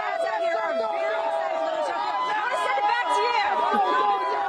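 Excited Dodgers fans celebrate a World Series win outside a bar in Little Tokyo, Los Angeles, a dense, steady crowd of overlapping voices, chatter and shouts close by.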